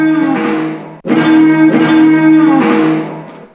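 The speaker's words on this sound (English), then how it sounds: "killed the low end, added reverb and a chorus" Sustained sampled soul chords with a warm, washy reverb and a shimmering chorus, low end cut so it sounds thin, in two long phrases with a brief break.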